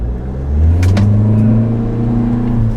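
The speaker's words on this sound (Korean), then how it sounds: "자 한번 가속을 한번 해보도록 하겠습니다" Renault Samsung QM6 diesel 4WD SUV accelerating hard, its engine drone loud and close as it swells and climbs steadily in pitch, with no voices.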